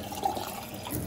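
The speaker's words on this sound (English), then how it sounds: "Washing it out, really boiling hot water." A brief splash and swirl of boiling hot water poured and sloshed inside a glass to rinse it, heard up close.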